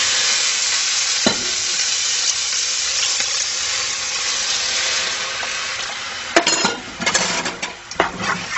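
Flour being stirred into boiled water for a veal paupiette sauce, a steady close scraping and swishing with faint sizzle beneath, then sharper clinks and knocks of the utensil against the pan near the end.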